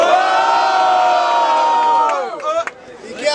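Crowd at a student rap battle in Guarulhos cheers and shouts loudly and continuously, a sustained roar of many voices that thins into scattered whoops and yells near the end.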